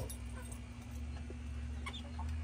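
Backyard chickens at their coop at dusk, a few faint, soft clucks and murmurs scattered over a steady low hum and background noise.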